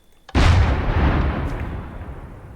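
A single booming tank cannon shot in Minecraft, loaded with solid shot and a big cartridge, erupts after a brief quiet and rolls away in a long, slowly fading rumble.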